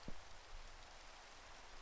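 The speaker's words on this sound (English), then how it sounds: "Raining." Steady rain falling in a video game, a soft continuous hiss of drops that stays even and fairly quiet throughout, with no voices.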